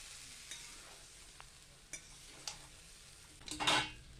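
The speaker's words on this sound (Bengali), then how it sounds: "এবার আমি ম্যারিনেট করা চিকেনটা এর মধ্যে দিয়ে দিলাম। তারপর এটা ভালোভাবে মশলার সাথে মিশিয়ে নিচ্ছি।" Marinated chicken being stirred with spices in a frying pan for Bengali-style chicken curry: a soft background sizzle broken by a few scraping clinks of a spatula against the pan, with one louder scrape near the end.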